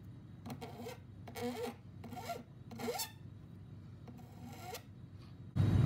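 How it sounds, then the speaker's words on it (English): A metal file drags along the bottom edge of an intaglio printing plate in short rasping strokes, about six quiet passes with brief pauses between them, then a louder bump right at the end. "just kind of drag your file along the bottom to get rid of that"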